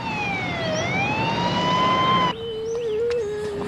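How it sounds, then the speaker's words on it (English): An ambulance siren wails loud and close, its pitch sweeping down and back up, then abruptly shifts to a lower, steadier tone with sharp chirps over continuous road noise. "A St. John's ambulance was immediately dispatched."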